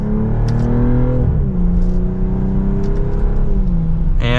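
2025 BMW M440i in sport mode accelerating in second gear, heard from inside the cabin: a loud, steady engine drone rising in pitch, dipping briefly at a shift, then climbing again.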